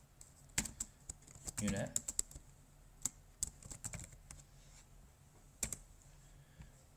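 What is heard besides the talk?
typing a folder name on a computer keyboard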